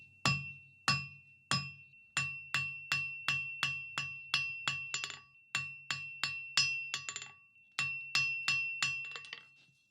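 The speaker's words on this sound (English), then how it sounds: "And now draw out a nice taper on both of them." Hammer striking hot steel on an anvil to draw out a taper, a close series of bright ringing blows in quick, steady bursts with short pauses between groups.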